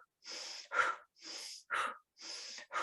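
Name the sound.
rapid breath of fire breathing exercise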